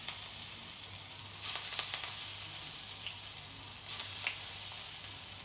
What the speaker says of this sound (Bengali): কড়াই বসাই দিছি, এই যে ডালের বড়াটা বানাইতেছি ছোট ছোট করে